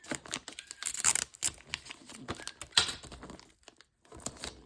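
Wrapping paper crinkles and rustles as it is folded around a present box, with quick close crackles and soft tearing-like scrapes coming in uneven bursts and a short pause near the end.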